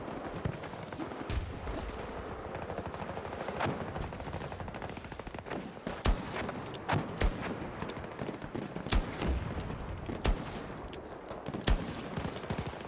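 Rapid gunfire in the shooter game Battlefield 6: dense bursts of automatic fire with sharper, louder single cracks scattered throughout, continuous and busy with no pauses.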